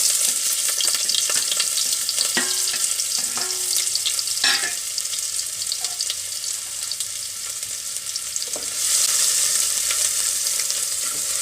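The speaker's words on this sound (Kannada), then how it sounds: "ಈಗ ಒಂಚೂರು ಒಗ್ಗರಣೆ ಕೊಡಬೇಕು" Spices sizzle in hot coconut oil for a tempering, a steady loud frying hiss with a few sharp clinks and scrapes of a utensil, swelling louder toward the end, with no voices.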